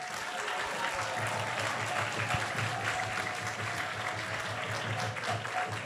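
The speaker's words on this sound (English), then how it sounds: "let's give him a big round of applause." Worshippers at an ISKCON temple in Silicon Valley applaud after a Krishna discourse: an even, sustained crowd clapping with a faint low hum beneath it and no speech on top.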